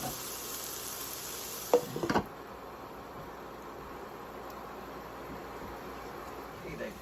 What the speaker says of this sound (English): We've been cooking the onion for about 5 minutes with the garlic.